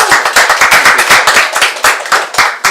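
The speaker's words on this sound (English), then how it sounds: "Let's make a round of applause to Ethan" An audience at a tech talk claps for the speaker, a few close, sharp handclaps in a quick uneven rhythm, loud and distinct against quiet.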